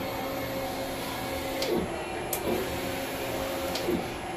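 Inkjet printer running a nozzle check print right after a head cleaning, a steady mechanical whir with a few soft clicks and carriage shuttles standing out, fairly close.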